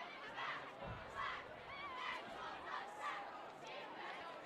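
Large home crowd at a St. Anthony's varsity football game against Monsignor Farrell, a sustained roar of shouting and chatter swelling in waves throughout, fairly distant and dense.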